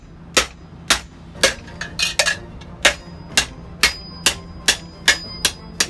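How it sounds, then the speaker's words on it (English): A hammer strikes copper pipe about a dozen times, flattening it into a billet; the sharp, ringing metallic blows come at a steady, evenly spaced rhythm, loud and close, with no talking. "I'm just gonna start by flattening it down."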